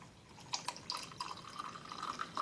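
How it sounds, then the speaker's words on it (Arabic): Hot water is poured into a drinking glass over a tablet, giving a soft, continuous trickle with small drips and splashes that gradually fill the glass, faint and close, without speech. "وغادي نضيف عليه ماء ساخن"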